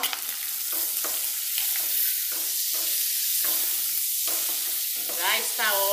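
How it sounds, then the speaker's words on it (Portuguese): Sausage frying in a pan alongside bacon for a simple home lunch, a dense close sizzle throughout with rhythmic scraping stirs, and a brief voice near the end. "fritar aqui a linguiça"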